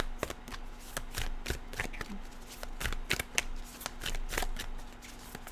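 Tarot cards are shuffled by hand for a reading in quick, repeated riffles and taps, close and fairly soft, with no voices.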